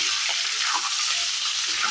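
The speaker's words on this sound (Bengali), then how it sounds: "দেখো আমি আলুগুলো এখন বেশ ভালো করে একটু ভেজে নেব" Potatoes frying in a pan for a homemade aloo dum, giving a steady bright sizzle with faint crackles and occasional stirring, close and continuous with no talk.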